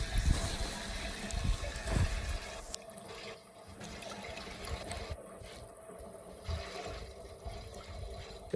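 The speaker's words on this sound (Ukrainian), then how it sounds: "Ось так ми заливаємо в трактор рідкі гроші." Diesel fuel gurgles and splashes as it pours into a tractor tank, the flow changing in tone partway through, with uneven sloshing bursts.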